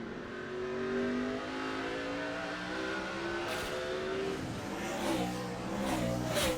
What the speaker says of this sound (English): we can listen to the engine in these guys that have plenty of fuel, make it to the end